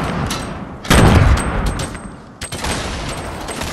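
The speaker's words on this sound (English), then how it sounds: "Where are they shooting? They're shooting on bottom" Gunfire in the video game Fortnite bursts out loud and close, a dense volley of rapid shots followed by scattered further shots, heard alone without talk.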